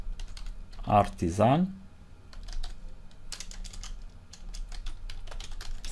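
Quick clicking keystrokes on a computer keyboard as a PHP Artisan command is typed into a terminal, following a brief spoken word, with close, light taps spread over several seconds.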